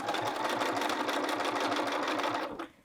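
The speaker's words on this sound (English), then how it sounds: "I'm going to baste at 3/8 of an inch. I'm not actually using a basting stitch, I'm just using my regular stitch length" A sewing machine runs in one steady, fast rhythmic whir while basting a jacket collar along the neckline at regular stitch length, then stops abruptly near the end.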